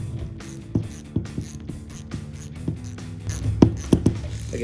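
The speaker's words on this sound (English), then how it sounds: "if you are using a ratchet and socket as I am, just be very careful with your connection" Ratchet and socket tightening a hose clamp on a 2019-2022 Sierra 6.2L cold air intake, with a series of close, sharp clicks in uneven bursts, growing denser and louder toward the end.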